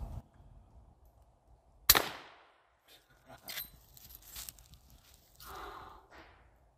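A suppressed .45-70 Marlin Dark Series rifle firing a subsonic round at a steel target gives one sharp, fairly loud crack, followed by faint clanks and shuffling and a brief burst of noise later, with no speech.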